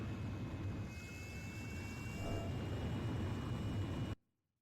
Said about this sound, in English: Razgriz, launch! Blaze, you are cleared for takeoff.